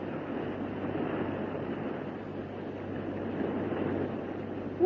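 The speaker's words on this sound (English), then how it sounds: "Water rushing around the elevator shaft." Water rushes around a flooded elevator shaft in a radio drama effect, heard as a steady, broad roaring wash of moderate loudness that holds for the whole stretch, with no voices over it.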